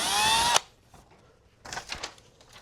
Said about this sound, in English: take an 1/8 inch drill bit, go right on the center of this and drill your pilot hole right into your bumper